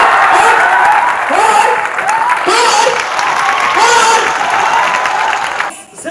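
An audience at a student parliament event in Bihar applauds the guests, a dense sustained wash of clapping from a crowd with voices mixed in, tapering off at the end.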